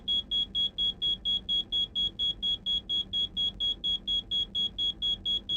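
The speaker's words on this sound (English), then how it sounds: "In the cockpit, the on indicator comes on, the evac indicator flashes, and the specific horn is triggered." Evacuation command horn in an Airbus A320 cockpit sounds as a rapid, evenly spaced series of sharp high-pitched beeps repeating about four times per second, loud and alone.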